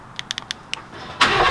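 A 2020 Ford GT Carbon Series, already warm rather than cold, starts up: a quick series of clicking starter ticks, then the engine catches with a sudden loud, broadband roar that holds to the end.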